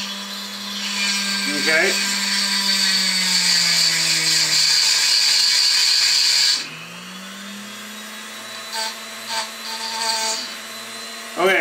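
A small rotary tool spins a pinewood derby car axle while sandpaper lightly buffs out its grooves, a loud steady whirring whine that stops midway, followed by brief clicks and handling noises, with someone speaking briefly.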